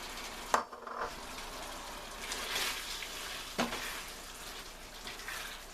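Tomatoes stirred into cooked salmon in a frying pan, a soft continuous sizzle with scraping stir strokes and a couple of sharper clinks, close and steady with no talk.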